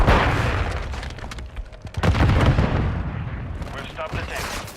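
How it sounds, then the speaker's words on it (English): A Semtex grenade blast in Call of Duty Modern Warfare 3, a heavy rumbling boom amid ongoing gunfire and battle noise, loud and close, with a voice speaking over the chaos. "Semtex incoming."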